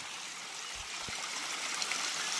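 Faint, steady trickle of spring water running from forest rocks and roots near a waterfall, soft and continuous, with a couple of low knocks partway through.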